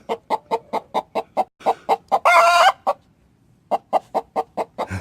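A broody hen clucks close by in a quick, regular run of short, sharp clucks, then gives one louder drawn-out squawk, pauses, and starts the even clucking again.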